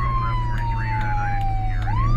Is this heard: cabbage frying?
no